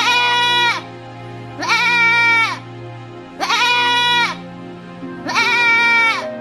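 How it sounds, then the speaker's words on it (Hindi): A goat bleats loudly four times, each cry a long, strained, wavering call separated by short pauses, close and alone. "वो बकरी अपनी भाषा में चिल्ला रही थी, मानो कि जैसे वो कुछ बताना चाहती है"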